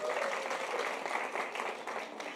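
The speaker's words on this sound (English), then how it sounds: "I want you to give yourselves a round of applause" An audience at a women's empowerment business event in Cape Town gives itself a round of applause, dense, even clapping that stays loud and steady throughout the short stretch.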